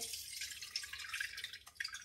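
Tamarind water drips and trickles steadily through a strainer close by, a soft patter of droplets with small splashes, no voices.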